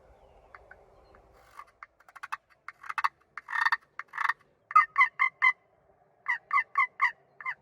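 Slate turkey call scratched to imitate hen yelps and clucks, a series of short, sharp raspy strokes in clustered bursts, close and fairly loud, with faint low rumble at the start and no talking.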